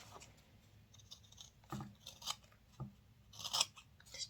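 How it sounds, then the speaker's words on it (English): Scissors snip through the bulky seam allowance of a sewn vinyl wallet, a few quiet, close cuts with crisp crunching clicks separated by short pauses. "Just trim some of the bulk out of there."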